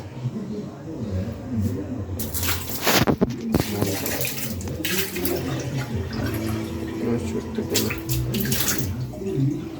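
Water splashes and pours for several seconds, with a few louder sloshing bursts, under soft background murmur.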